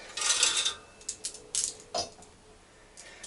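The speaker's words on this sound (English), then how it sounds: "Now we can remove the two retaining washers with their bushings, the upper springs," Parts come off a Harley Davidson springer fork as retaining washers and bushings are removed, giving a short scrape followed by several separate light metallic clinks, close and fairly faint.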